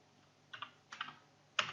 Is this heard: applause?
no